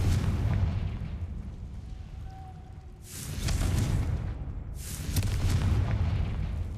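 Confringo fire spell cast in the video game Hogwarts Legacy, two loud booming blasts a couple of seconds apart, each a heavy rumbling burst over a deep, steady game backdrop, with no talking.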